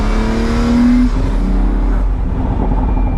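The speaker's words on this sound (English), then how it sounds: "The first thing you notice in this car is that roof scoop noise right behind your head." Pagani Huayra BC on the move, its roof-scoop intake roaring loud and close overhead, with a steady engine drone and a rising tone that breaks off around the one-second mark, a faint voice sitting underneath.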